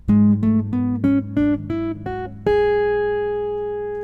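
A guitar plays a descending run of single notes in the Locrian scale, about eight picked tones, ending on a sustained chord that rings out and fades.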